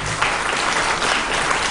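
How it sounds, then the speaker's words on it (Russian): Concert audience applauding a People's Artist of Russia with his ensemble and orchestra: a brief, full burst of dense clapping, even and loud from start to finish. "Аплодисменты."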